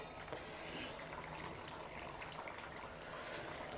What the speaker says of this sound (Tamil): இதுல புளித்தண்ணி விட்டுக்கலாம்